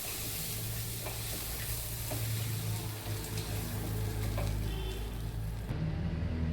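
Vermicelli idli batter being stirred with salt in a bowl, giving a steady wet, scraping churn that runs continuously and fairly close throughout.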